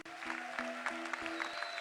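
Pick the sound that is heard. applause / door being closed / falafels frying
applause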